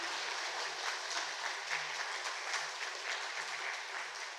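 A church congregation gives soft, steady applause during a Sunday service certificate presentation, a continuous patter of clapping heard at some distance and fairly faint.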